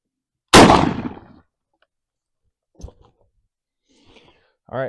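A single loud, close shotgun blast from a 12 gauge Winchester SX4 with a Muller passing choke, firing number 4 black cloud shot at a 40-yard pattern target, decaying over about a second, followed by faint scattered voices.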